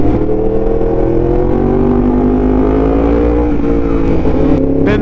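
A Yamaha MT-10 SP motorcycle engine drones and revs continuously up close, loud, its pitch climbing steadily as the throttle opens.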